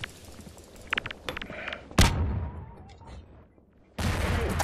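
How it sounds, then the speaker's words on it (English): Grenade explosion in the game Half-Life 2 Episode 2, a sudden loud close blast with a rumbling decay, preceded by scattered gunfire and followed by another heavy burst near the end. "I'll just toss a grenade down"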